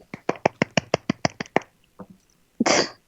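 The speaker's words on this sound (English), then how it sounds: "Give her an applause." A small group on an online call gives a few quick, sharp claps in a short run, followed by a brief pause and a soft, breathy noise near the end.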